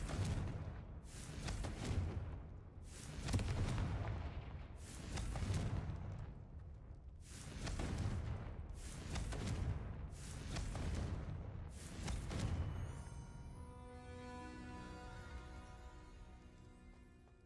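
Repeated Confringo blasting-spell explosions in Hogwarts Legacy, seven or eight loud booming bursts roughly a second apart, then a ringing, tonal magical shimmer that lingers and fades, with no voices.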